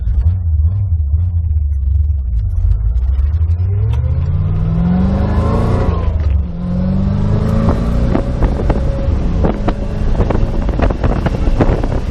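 A 1991 C4 Corvette accelerates hard on the road, engine rumble rising through the gears with a shift partway, loud and close under heavy wind noise.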